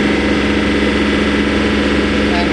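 A John Deere 3520 tractor engine runs at high revs during backhoe removal, a loud, steady, close drone with a strong low hum throughout.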